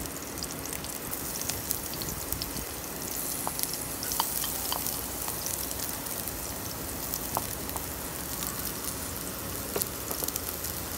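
Ginger and garlic frying in a pan for Filipino chicken adobo, a steady close sizzle and hiss with scattered crisp pops and occasional stirring scrapes, no talk.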